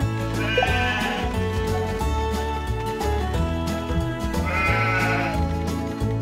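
Sheep bleat in the Paw Patrol Academy video game over a loud, busy music track, with two drawn-out bleating calls rising above the steady backing.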